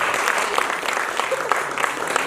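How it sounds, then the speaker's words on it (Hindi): Loud, dense applause fills a theatre festival auditorium as the audience claps for the performers, a sustained crackling roar of many hands with no break. "एक बार जोर से तालियां बजा दें आप"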